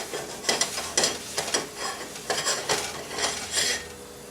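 A cloth or paper towel scrubs across a hot cast iron pan to wipe out excess oil, giving repeated rough swishing strokes in an uneven rhythm, close and fairly loud, with no talking.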